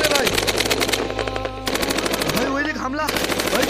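Rapid bursts of machine-gun fire in a Hindi army short film, loud and continuous throughout, with shouting voices breaking through between the volleys.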